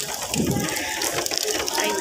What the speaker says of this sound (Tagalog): Tumutulo yung tubig galing dyan